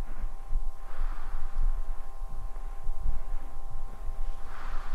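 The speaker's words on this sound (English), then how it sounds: "That's the sound of fluorescence." Fluorescent lights buzzing in the empty halls of a Backrooms video game, a steady faint electrical hum with a thin tonal whine under a soft low rumble, continuous and without speech.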